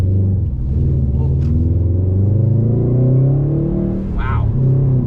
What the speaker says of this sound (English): You can really feel when the turbo kicks in